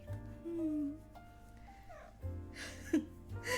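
A male cat trilling and meowing softly while getting chin scratches, giving several short rising and warbling chirps, close by and fairly quiet, with some faint handling noise.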